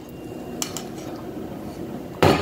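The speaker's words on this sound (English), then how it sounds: "return to hand stirring milkshakes" A spoon hand-stirs a homemade milkshake of Ben & Jerry's Topped Tiramisu ice cream, giving faint soft scraping with a light clink early on and a louder clattering scrape at the end, with no voices.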